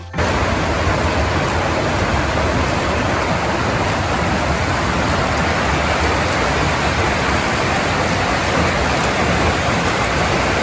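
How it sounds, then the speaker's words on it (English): Heavy West Coast rain on New Zealand's South Island, a dense, loud, unbroken hiss of downpour from start to end with no talk. "it rained that heavy West Coast rain almost non-stop for the next 24 hours"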